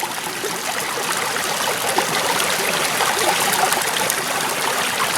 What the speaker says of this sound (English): So there you can see the water flow coming through, eating up that material